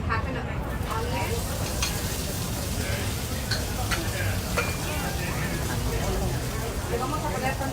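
Chopped tomato and onion fry in a pan with a dense, steady, loud sizzle and crackle throughout, with occasional stirring clicks and a voice talking over it.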